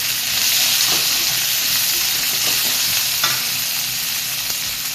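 Cluster beans tipped into a pan of ginger and garlic already fried red, sizzling and hissing steadily and loudly with a few stirring scrapes and clinks, close up and without speech.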